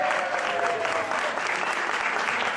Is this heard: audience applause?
yes